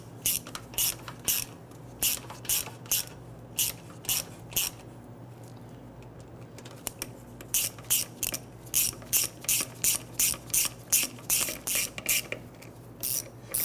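A hand ratchet runs down the transmission oil pan bolts on a 1999-2004 Jeep Grand Cherokee 4.7L V8, close sharp clicking in quick bursts with brief pauses between bolts, no speech.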